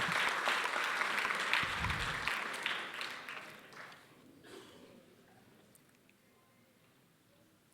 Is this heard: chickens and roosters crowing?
no